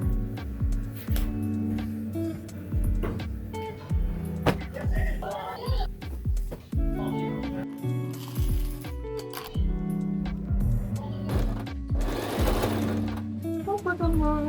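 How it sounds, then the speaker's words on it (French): Sewing machine stitching fabric pieces right sides together in a small craft workshop, rapid mechanical whirring runs in repeated bursts with brief pauses, clinks and handling noises between them. "Et ensuite je couds endroit contre endroit."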